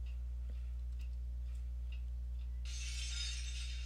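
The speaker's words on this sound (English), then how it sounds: "The sound of cold objects colliding, accompanied by the sound of liquid splattering, can be heard unceasingly in the corridor." Cold objects colliding and liquid splattering in a corridor: faint, scattered clinking taps over a steady low hum, then a louder, continuous hissing splatter rises near the end, with no voices.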